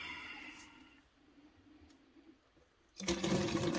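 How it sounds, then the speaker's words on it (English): After a quiet stretch of faint hum, apple cider suddenly pours in a loud, splashy gush into a vessel, close by and continuing steadily. "And pouring it."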